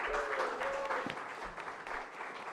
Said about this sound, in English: Can we give a round of applause to the band?